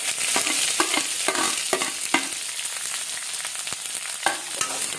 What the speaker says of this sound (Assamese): মোৰ পিঁয়াজখিনি ফ্ৰাই হৈ আছে